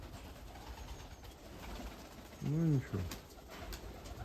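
Budapest and Mykolaiv pigeons strolling outdoors give one clear, low coo midway, set against soft background noise, with a person's brief speech nearby.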